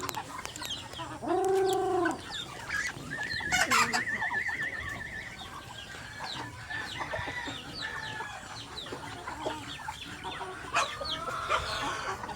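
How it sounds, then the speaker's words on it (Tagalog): Chickens clucking and a rooster crowing nearby, with scattered bird calls and faint voices in the background of an outdoor farmyard. "Lahat ng manok nasa labas"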